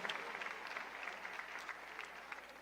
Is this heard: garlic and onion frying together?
no